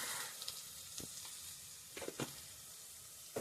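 Masala and turmeric sizzle softly in a pan while being stirred for a village-style Malvani colocasia-leaf dish, with a steady low hiss broken by a few brief scraping clicks.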